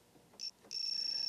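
Logic probe on the chip select line of an Atari 520 ST emits a high, steady electronic tone: a short beep, a brief gap, then a sustained tone that holds to the end, fairly quiet with no talking.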